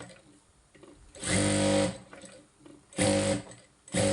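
A sewing machine stitches fabric in three bursts of fast, close, steady whirring, separated by short quiet pauses.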